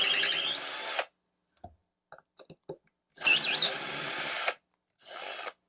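An Altocraft 20V cordless drill runs in reverse to back screws out, with two loud whirring bursts of about a second each separated by small clicks and taps, then a shorter third burst.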